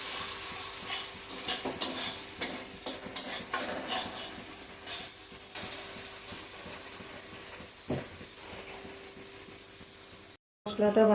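Spices fry in hot oil in a pan with a constant hiss and sizzle, while a spoon stirs and scrapes in a series of sharp clicks early on, near and moderately loud.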